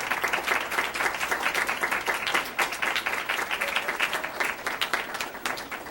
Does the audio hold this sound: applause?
yes